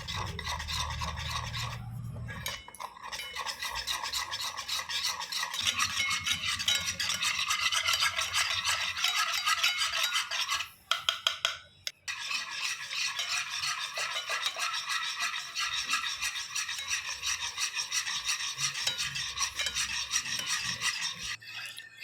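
Sour yogurt is whisked briskly into mango pulp in a bowl, giving a continuous raspy, rhythmic scraping that runs close and steady with a few brief pauses.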